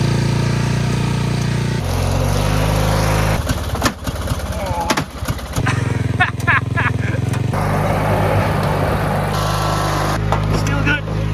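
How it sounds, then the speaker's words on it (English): A riding lawnmower's engine runs steadily and loudly throughout, a constant low rumbling drone with brief mechanical rattles and knocks partway through, close to the listener. "Riding lawnmower."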